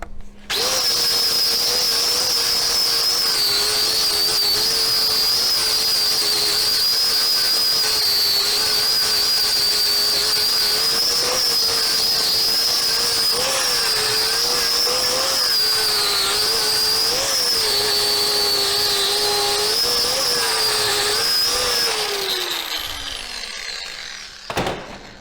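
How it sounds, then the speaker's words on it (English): An angle grinder fitted with a flap wheel grinds metal in a school metal shop, a loud, continuous high whine held steady with slight pitch dips under load, winding down near the end. "if you're feeling particular, you can go in and clean it up a little bit with a flap wheel."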